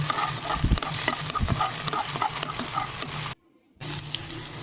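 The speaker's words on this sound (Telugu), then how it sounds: "ఇప్పుడు జింజర్ గార్లిక్ పేస్ట్ వేసి పచ్చివాసన పోయే వరకు వేయించాలి." Ginger garlic paste frying with onions in a pan for a ladies' finger curry: a steady close sizzle with scraping stirring strokes, briefly cut to silence near the end before the sizzle returns.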